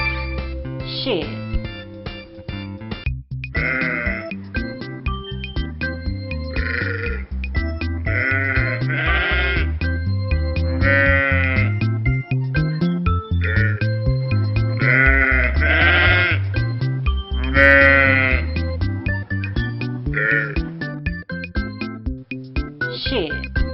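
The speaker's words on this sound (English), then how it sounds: "Sheep." Sheep bleat repeatedly on a farm, a series of wavering, nasal cries one after another over a backing of bright music, loud and close throughout.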